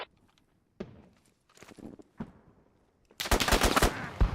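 Gunfire from a combat scene in the multiplayer military shooter Squad: a few scattered sharp shots and footsteps, then a loud burst of rapid automatic fire near the end.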